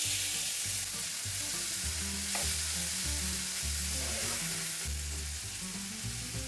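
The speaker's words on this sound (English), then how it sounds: "I'm going to add the tomatoes. These are fresh tomatoes. I just chopped them small." Fresh chopped tomatoes hit a hot pan for chicken cacciatore and sizzle loudly and continuously, broken by the scrape and clatter of stirring, close up with no talking.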